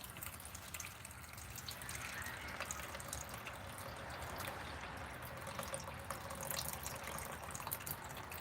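Faint water trickles and drips through a worm compost bin, a quiet, steady dribble with scattered small splashes continuing throughout, distant and soft with no talking.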